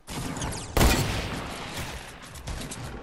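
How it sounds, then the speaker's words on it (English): Gunfire in the Fortnite Battle Royale video game, with a sharp loud burst of shots landing about a quarter of the way in, then a sustained crackle of firing and a second, smaller flurry near the end, with no talk. "I am currently being shot at by two people."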